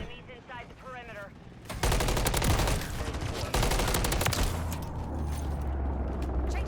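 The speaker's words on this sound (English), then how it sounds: "got some sniper kills there" Video game firefight with a burst of rapid gunfire, sharp repeated cracks packed tightly together and followed by sustained loud shooting and rumbling low booms, heard close and dense, with game sounds and clicks leading in.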